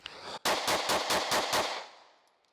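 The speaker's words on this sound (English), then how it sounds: "draw and fire 6 rounds into the A zone" A concealed carry pistol fires six rapid shots after a draw, each crack evenly spaced and loud, close by, ending in a short fading echo with no talking.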